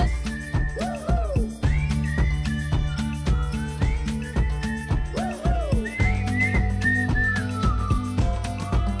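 Melodic whistling from a song, a bright repeating whistled hook with sliding notes over a steady rhythmic backing beat.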